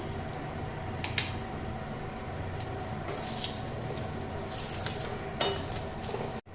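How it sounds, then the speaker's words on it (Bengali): Lentil dumplings (bori) frying in oil in a pan for a cauliflower and bhetki fish curry, a steady close sizzle with occasional sharper crackles and pops. "এবার আমি এর মধ্যে দিয়ে দিচ্ছি কয়েকটা বড়ি"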